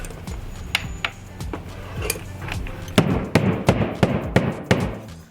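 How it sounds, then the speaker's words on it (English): A series of sharp knocks on a wall to locate studs, irregular at first then quicker and louder, each a short hollow thud. "You see we're knocking it right now to find the studs."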